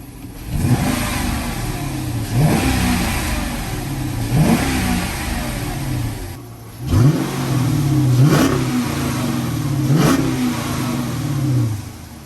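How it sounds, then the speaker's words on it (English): A warmed-up Hemi Dodge Charger revs repeatedly, five or six short throttle blips rising and falling over a steady idle, with a thin, weak exhaust note close by. "Now that it's warmed up a little, let's give it a few revs."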